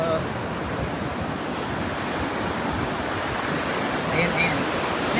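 Strong ocean waves break and wash onto a sandy beach, a loud, continuous roar of surf with wind buffeting the microphone throughout.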